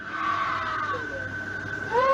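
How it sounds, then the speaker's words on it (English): A woman screams at night, a long wavering high cry that rises and falls, distant and eerie over steady background noise. "You can hear a woman scream."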